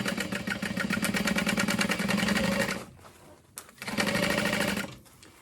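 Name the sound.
sewing machine stitching a bag seam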